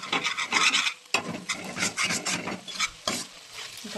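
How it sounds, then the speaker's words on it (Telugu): Okra fry is stirred in a pan over the heat, with continuous scraping and rasping strokes in a steady rhythm and a soft sizzle underneath, close and fairly loud. "మళ్ళీ ఒకసారి కలుపుకుందాం"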